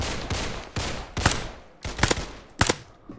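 A gun in Roblox Criminality fires with heavy recoil. There are about six separate loud shots, some doubled, spaced roughly half a second apart, each decaying quickly. No voices are heard.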